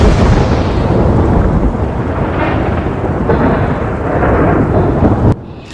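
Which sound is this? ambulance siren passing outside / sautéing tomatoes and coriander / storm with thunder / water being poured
storm with thunder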